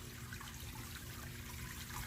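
Water pumping through a SunSun JUP-23 UV clarifier, a faint, steady trickling rush over a low, constant mechanical hum, with no talking.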